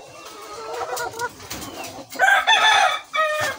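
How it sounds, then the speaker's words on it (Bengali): Upright-standing fancy chickens and a rooster in a hobby poultry keeper's yard. They cluck in uneven bursts, and a rooster crows loudly near the end, all close and without talk. "এই তো আমাদের দাঁড়িয়েওয়ালা মুরগিগুলা"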